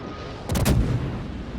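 Heavy naval gunfire in the World of Warships game: a loud booming salvo erupts mid-clip over a constant rumbling background of battle noise, then trails off into a sustained roar.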